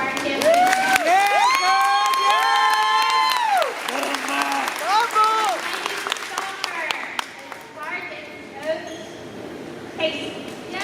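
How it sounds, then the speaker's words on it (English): Applause and cheering for champions at a school board meeting: a crowd claps steadily with high whoops and shouts on top, then the clapping thins and scattered voices and cheers carry on. "And then another round of applause for our champions."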